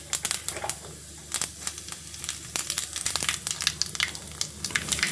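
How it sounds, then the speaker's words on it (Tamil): Mustard seeds and cumin tempering in hot oil, a close, continuous sizzle broken by quick crackling pops as the seeds burst, with no voices. "கடுகு ஜீரகம் மட்டும் போட்டு தாளிச்சிட்டு"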